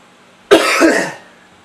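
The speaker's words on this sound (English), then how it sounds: "Sorry about my cough." A single close, harsh cough with a quick second burst, heard alone against a quiet background.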